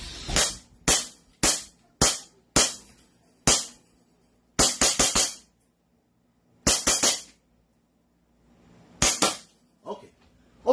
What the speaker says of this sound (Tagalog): Sobrang lakas ng putok dito